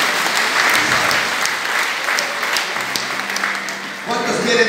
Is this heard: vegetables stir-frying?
no